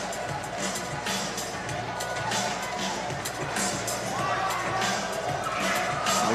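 Arena crowd at a FIBA 3x3 basketball game in Romania, cheering and shouting steadily in a large indoor space, with a commentator talking over the noise.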